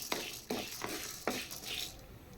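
Lentils, dried red chilies, tamarind, asafoetida and dried drumstick leaves are dry-roasted in a pan, heard as a few quiet scraping stirs with light rattling, fairly faint and close.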